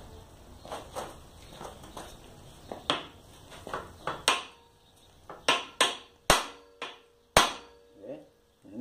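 An old bicycle's crank cotter pin is knocked out with a hammer: a series of sharp, ringing metal blows, irregular at first and then sharper and more spaced, with faint talk early on.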